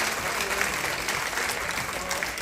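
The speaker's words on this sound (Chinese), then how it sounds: "让我们再一次以最隆重的掌声欢迎我们三十六亿地区总监 Tony 康利" Sustained audience applause welcoming a guest at a Rotary Club anniversary ceremony, a dense steady wash of many hands clapping in a hall, with a voice speaking over it.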